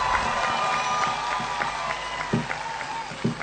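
Audience clapping at a Rajasthani Marwari poetry recital, a steady crowd patter running under a spoken voice, with a few sharper louder claps standing out near the end.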